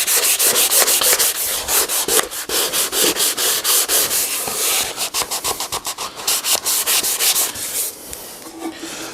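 Hand sanding a water-based wood finish with Festool Granat abrasive produces loud rhythmic back-and-forth rasping strokes, fast and regular, close up with no talking.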